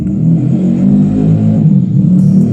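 A motorbike engine rumbles loudly past at night, a steady close low roar that lasts the whole moment.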